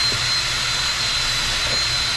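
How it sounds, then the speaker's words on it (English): A wire wheel spinning inside the yoke of a front axle U-joint makes a steady, loud, high-pitched whir. It hums on without a break from start to finish, with no voices. "take a wire wheel and just clean up the inside here"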